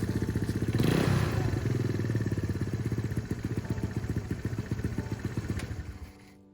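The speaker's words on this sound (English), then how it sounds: "The bike starts with the kickstarter" A Vespa ET4 scooter engine kick-started into a steady, rapid putter that runs loud and close, with a clattering burst at the start before settling into an even idle.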